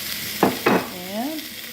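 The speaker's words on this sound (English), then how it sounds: "I'm going to dump in our ground turkey here." Ground turkey dropped into hot avocado oil in a pan, two quick scraping stirs followed by a soft sizzle, close and fairly loud over a steady frying hiss.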